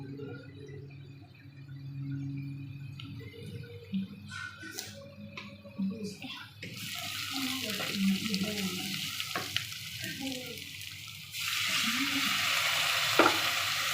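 Onion and spices frying in a pan, a soft sizzle swelling into a loud steady hiss, with spoon scrapes and clinks of stirring throughout.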